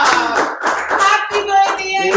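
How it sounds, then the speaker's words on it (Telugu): Steady clapping from a small group at a child's fourth birthday celebration at home, brisk and close, with voices mixed in. "Claps claps claps claps."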